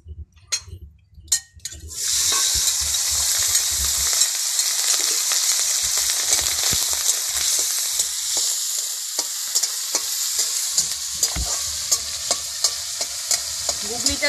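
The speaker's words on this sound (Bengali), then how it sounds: "এবারে আমি গুগলিও ভেজে নেব।" Snails pre-coated with salt and turmeric drop into hot oil after a few opening taps, and a loud sizzle bursts out. The sizzle then settles into a steady hiss, with repeated close spatula scrapes and knocks against the pan.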